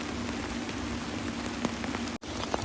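Rain falls steadily in a misty forest, making a dense, even patter of drops with a faint low hum underneath and a brief dropout near the end.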